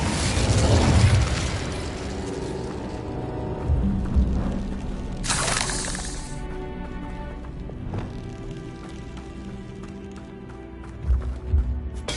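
A fire spell cast in the Hogwarts Legacy game, with a bright whooshing burst near the middle over dense game effects, rumbling impacts and footsteps, with further thuds near the end.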